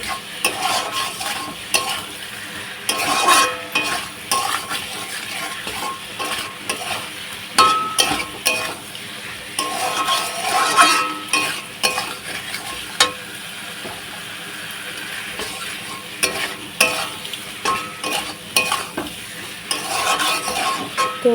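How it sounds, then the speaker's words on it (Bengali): Curry being sautéed in a pan, constant frying sizzle broken by rhythmic scraping and clattering of a spoon stirring against the pan, close and continuous throughout with no voices. "এই যে হয়ে এসছে প্রায় একটু কষে নেবে ভালোভাবে"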